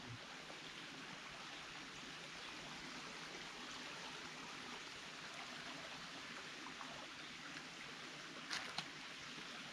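A river stream flows steadily along the Appalachian Trail, a soft continuous rush of water with no talk, and a couple of brief faint knocks come near the end.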